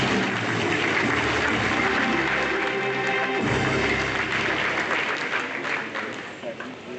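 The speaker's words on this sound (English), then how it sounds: "may I request Convocation to give a round of applause to the Vice Chancellor" A convocation audience at a postgraduate degree ceremony applauds the Vice Chancellor, with a sustained roar of many hands clapping that fills the hall and then begins to thin toward the end.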